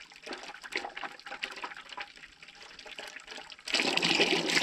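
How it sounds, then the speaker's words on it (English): Water gushes and splashes loudly from an opened pipe fitting, starting suddenly after a quieter stretch of trickling and clatter. "It starts splashing and you get crap all over you."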